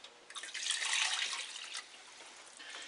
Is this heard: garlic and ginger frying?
no